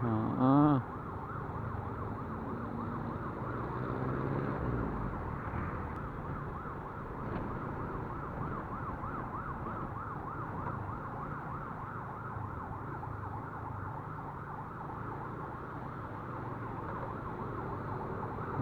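An ambulance siren wails continuously with a steady rising and falling pattern, loud and close, over the rumble of road traffic.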